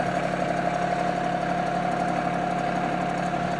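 An RK24 compact tractor engine idles close by at a steady, even, throbbing hum, loud and unchanging throughout, with no voices.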